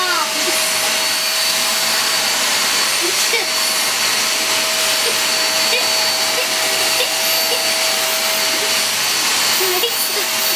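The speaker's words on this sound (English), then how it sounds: "let's see how this stick vacuum does" A Pooda D9 stick vacuum cleaner runs loudly and continuously with a steady motor whine and airy rush, close by, with faint intermittent rattles of debris.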